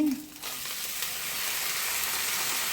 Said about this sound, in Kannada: ಒಂದು ಒಂದರಿಂದ ಎರಡು ನಿಮಿಷ ಅಕ್ಕಿನ ಫ್ರೈ ಮಾಡ್ಕೊಳ್ಬೇಕು